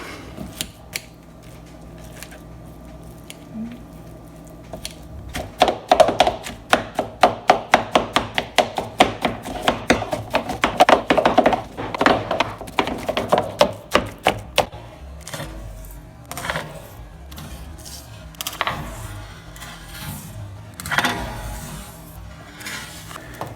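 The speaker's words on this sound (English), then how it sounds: "We'll put it in a bowl and start mashing away. I'm going to mash with a fork that we have lying around." A fork mashes cooked butternut squash in a bowl, making a dense run of quick clicking taps and scrapes that later thins into sparser, irregular knocks. It is close and clear, with no talking.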